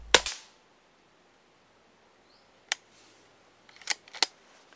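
A Daystate Red Wolf airgun fires at a grey squirrel, giving a single sharp crack at the start, followed by quiet and a few faint clicks and taps later on, all in an otherwise silent outdoor setting.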